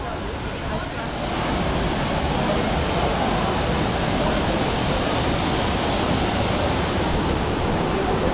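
Steady, loud roar of a waterfall heard up close at Tanguá Park, a dense unbroken wash of falling water and spray that fills the whole scene from start to finish.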